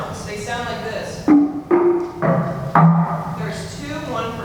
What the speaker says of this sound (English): Okay, these are wood drums.